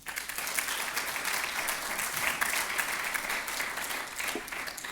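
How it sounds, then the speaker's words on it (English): A steady round of applause from a conference audience at a closing ceremony, dense continuous clapping filling the room at an even level for several seconds with no talk. "give a round of applause to all those who've played a role"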